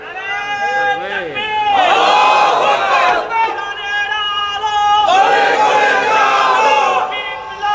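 A crowd at a Bengali religious sermon on the tafsir of Surah Yasin shouts a slogan together, loud and close, in repeated swelling calls of many voices.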